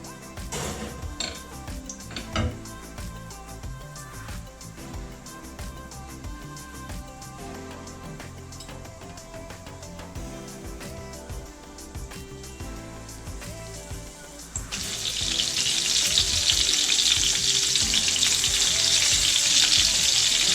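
Breaded cutlets coated in egg and breadcrumbs fry in a pan with a steady sizzle, plus occasional clinks of utensils against cookware; the sizzling swells noticeably louder and brighter near the end. No one speaks.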